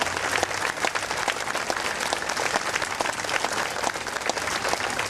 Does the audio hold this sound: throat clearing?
no